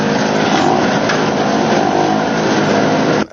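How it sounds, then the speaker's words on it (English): Small fuel-powered generators run together with a loud, steady, dense engine roar that holds constantly before cutting off abruptly at the end. "I filled both generators with the same quantity of fuel, turned them on"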